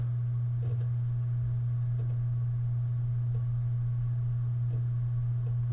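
Distortion effect in the game I'm On Observation Duty 4: a steady low electronic hum drones throughout, with faint soft ticks recurring about once a second.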